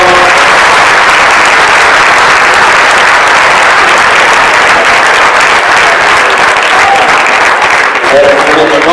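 A large crowd at a civic reception for champions applauds very loudly, a continuous, saturated wash of clapping hands with crowd voices mixed in, sustained at full volume for the whole stretch.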